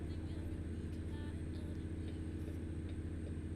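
Parked aircraft engines running in the TruckersMP driving game, a steady low droning rumble with a faint high whine, continuous and even throughout.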